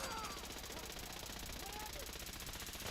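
Rapid, steady automatic gunfire from a firefight in the video game Fallout 4, a continuous rattling burst heard at moderate distance and fairly faint, with no speech.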